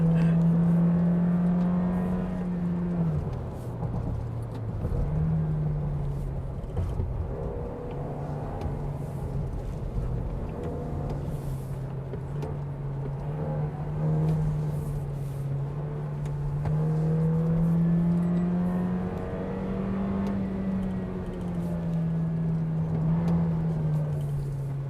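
Toyota Innova 7-seater MPV climbing a steep mountain road in third gear, a steady low engine drone that rises and falls in pitch with the throttle, heard from inside the cabin, no talk.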